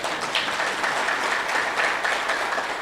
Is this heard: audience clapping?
yes